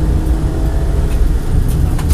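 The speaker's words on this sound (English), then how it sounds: "off the brake and accelerate" A rally car engine accelerates on a track, a loud close roar that surges steadily through the whole short burst with no voices over it.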